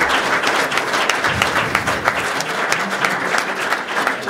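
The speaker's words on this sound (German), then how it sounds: "also ganz, ganz herzlichen Applaus" An audience at an award event claps warmly, a steady mass of applause from many hands at close range, with no voices over it.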